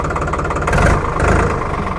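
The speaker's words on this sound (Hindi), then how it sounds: "ट्रैक्टर काफ़ी जल्दी आरपीएम पकड़ रहा है" A New Holland 3600 tractor's diesel engine revs up, a loud, close, steady rumble that rises briefly as it gains RPM, with no talk.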